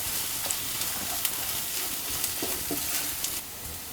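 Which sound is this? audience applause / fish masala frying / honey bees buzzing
fish masala frying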